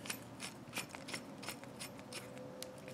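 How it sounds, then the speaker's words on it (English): A hand ratchet clicks in quick, light bursts while snugging a brake line banjo bolt with crush washers, faint and close-up with metallic scraping and ticking. "I'll even put my ratchet on to show you guys"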